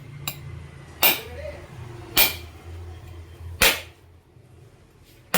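A coconut being cracked open with blunt blows: four sharp, loud knocks spaced about a second apart, each a short crack standing out against quiet background.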